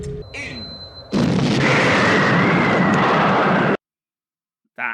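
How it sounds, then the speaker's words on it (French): Explosion from the 1979 film Alien: a sudden loud, sustained roaring blast that rumbles for a few seconds and then cuts off, preceded by quieter tones and followed by a brief burst of noise. "C'était pas de la petite explosion"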